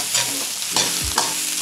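Rice and carrots with mixed vegetables being stir-fried in a pan, with a few distinct scraping stirs of a utensil over a steady soft sizzle, close and fairly loud.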